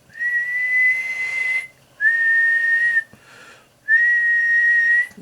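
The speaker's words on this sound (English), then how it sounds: "And a 6LF6, a good one will whistle to about 100." A 6JM6 vacuum tube whistling on a Palomar 90a tube tester: three loud, steady high-pitched tones, each held for over a second, separated by short gaps and heard alone with no talking.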